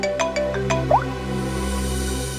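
A phone ringtone plays a few quick bright chime notes close by, then fades into a sustained electronic tone over a steady hum.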